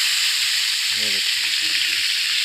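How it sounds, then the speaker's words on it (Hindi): Hot tadka tempering is poured over cooked saag, setting off a loud, steady sizzle and crackle of frying oil that fills the whole moment, with a brief stirring clatter in the middle. "अब इसके ऊपर हम तड़का लगाएंगे।"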